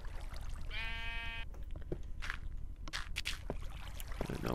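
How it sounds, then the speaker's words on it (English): A sheep bleats once, clearly and close, down in a Minecraft dungeon mine, followed by quiet shuffling footsteps and small scraping game sounds. "Oh, it's sheep. I don't know why there's a sheep down here in the dungeon"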